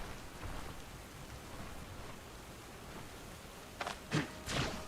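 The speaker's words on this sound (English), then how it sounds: "Of course, I'm being rained on." Rain in the video game Stoneshard falls as a soft steady hiss, with a few louder rumbling swells toward the end suggesting distant thunder; no speech.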